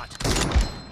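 Gunfire from an M24 sniper rifle in a first-person shooter room match: one heavy, booming shot with a deep low-end thump that rings out over a brief roar, close and loud.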